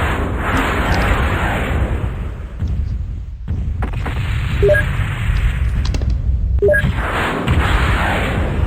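Chain-fired mech weapons in the MechWarrior 2 NetMech video game, rapid repeated bursts and booms in several loud volleys separated by brief gaps, dense and close with sharp pops.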